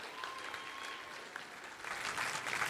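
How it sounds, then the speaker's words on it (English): Audience applauding at a military recruit pass-out parade, a steady spread of distant clapping that swells louder toward the end, with a faint tone running through the early part. "You may applaud again"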